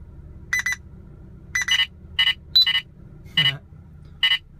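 Radenso Pro, V1 and Max2 radar detectors booting up at maximum volume give a series of six loud, sharp electronic beep and chirp bursts, evenly spaced with short gaps, with no talking.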